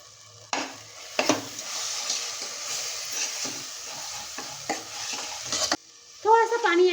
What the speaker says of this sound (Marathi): मसाले जळायला नको झाकण ठेवूया आणि छान मसाले परतून घेऊया